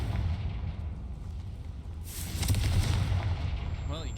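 A Confringo fire spell bursting in Hogwarts Legacy, a loud booming blast that swells over a steady low rumble and lingers for a couple of seconds.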